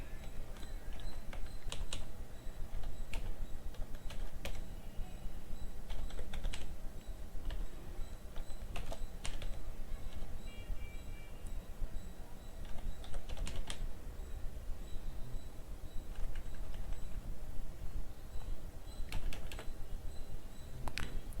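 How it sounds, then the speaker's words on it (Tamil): Steady typing on a computer keyboard while working in Photoshop, a continuous close patter of keystrokes with occasional sharper clacks throughout. "இப்போ டைப் பண்ணலாம்."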